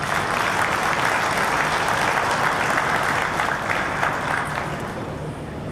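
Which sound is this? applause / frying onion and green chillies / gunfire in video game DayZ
applause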